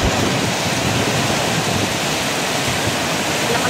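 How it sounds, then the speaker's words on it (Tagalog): Heavy rain pours down steadily outside a home kitchen, a loud, dense, unbroken hiss of falling water with no pauses and no voices. "Lakas ng ulan, guys."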